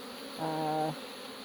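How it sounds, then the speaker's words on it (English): Honey bees buzzing at a hive during a nectar flow, with a single close bee droning loudly for about half a second over a steady background hum of the busy colony. "the bees are very busy getting it, whatever it is"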